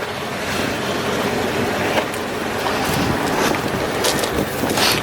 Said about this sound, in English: I got the motorhome running right now.